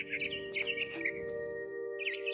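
A bird chirps in the video game What Remains of Edith Finch, giving quick, bright tweets in short bursts over a steady tonal music bed. Each call is brief and clear, with a short gap before a final chirp.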